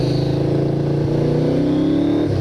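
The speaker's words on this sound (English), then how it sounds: "just listen to that engine" A 1986 Yamaha VMAX 1200 motorcycle engine runs steadily at close range, its low droning pitch rising slightly as it revs, continuous and loud with no talking.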